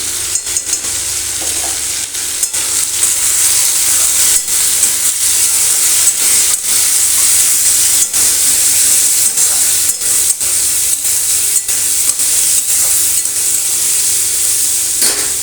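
Potatoes frying and being stirred in a pan, a steady bright sizzle with repeated scraping strokes of the spoon running throughout, close and loud with no voices.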